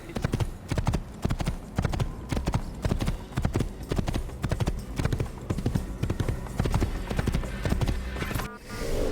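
A galloping horse in the video game Assassin's Creed makes a fast, rhythmic clip-clop of hooves that runs steadily and loudly for several seconds, then dips briefly near the end.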